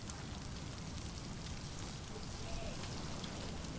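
Steady hiss of rain falling in the survival video game Stranded Deep, a dense even patter over a nearby fire with no break across the clip.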